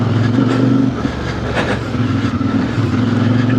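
A 2026 CF Moto IBEX 450 parallel-twin motorcycle rides off road, its engine droning loud and steady with a low harmonic hum that dips briefly mid-ride before resuming, plus wind and terrain rumble.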